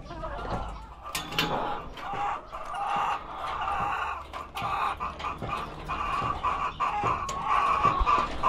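Backyard pet hens cluck steadily and fairly close, with soft overlapping calls and a brief distant crow, set against a busy outdoor background with no clear talk.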